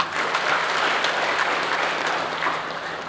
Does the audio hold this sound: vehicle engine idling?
no